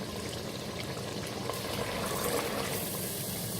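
Chickpeas roasting in a desi-style pan hiss and sizzle as water is sprinkled over them, a loud, steady crackling wash with no talking.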